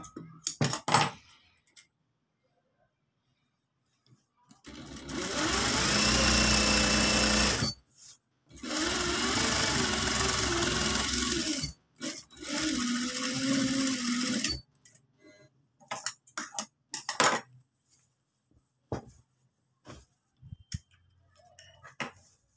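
A sewing machine stitches a shirt seam in three loud, steady whirring runs of a few seconds each, separated by short pauses with light clicks and handling of fabric, no voices present.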